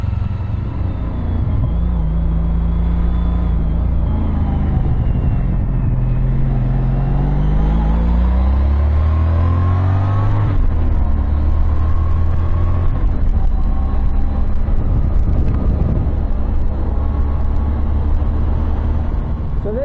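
A Honda CTX 1300 motorcycle engine running while the bike rides along, a loud steady rumble that climbs and falls as it shifts and accelerates, with wind noise throughout.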